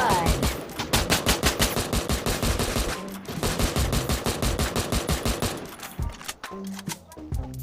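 Rapid bursts of automatic gunfire in the battle-royale game Free Fire, a dense loud rattle of repeated shots that stops briefly around the midpoint and then resumes before thinning out.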